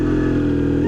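A motorcycle engine drones steadily at a constant pitch, loud and close, with a rich low harmonic hum throughout the brief moment and no voices over it.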